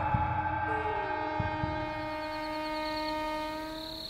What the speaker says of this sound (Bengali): খানিকটা দূরে একটা ট্রেন থামার হুইসেল শুনতে